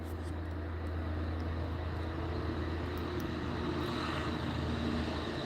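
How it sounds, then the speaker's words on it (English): An empty logging truck driving past outdoors in the early morning, a steady low rumbling drone with road hiss that holds fairly constant and swells slightly toward the end as it passes. "here comes the logging truck. Listen to this."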